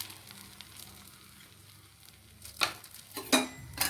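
Paneer bread sandwich toasting in a pan, a soft steady sizzle with a few louder crackling bursts and scrapes toward the end.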